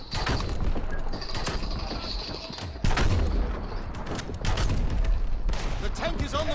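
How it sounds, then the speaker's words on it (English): A World War 2 video game enemy tank rolls forward with clanking, ratcheting track noise under a rumbling engine, broken by bursts of gunfire and heavy impacts throughout. "The tank is on the move."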